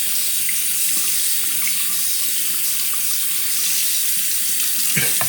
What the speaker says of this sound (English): We're gonna rinse the stone.